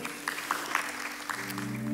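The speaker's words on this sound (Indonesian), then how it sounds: "Tepuk tangan yang meriah saudara." A church congregation claps in lively applause, a dense crackle of hands over a low sustained musical tone, with a few sharper claps standing out near the front.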